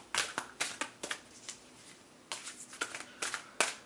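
Tarot cards being shuffled by hand, with a series of crisp riffling bursts broken by short pauses, close and clear.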